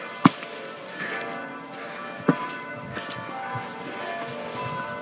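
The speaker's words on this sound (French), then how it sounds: "c'est beau les cloches" Church bells ringing at a distance in Maretz during a muddy 160 km ultra trail race, faint tolling tones over outdoor ambience with a couple of sharp knocks nearby and no talk.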